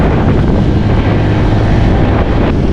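Steady, loud, cold wind roaring across the microphone high on a steep climb in Dingalan, Aurora, Philippines, a continuous low rumble with no pauses throughout.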